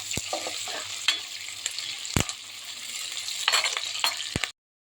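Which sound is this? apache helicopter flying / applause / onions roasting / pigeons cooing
onions roasting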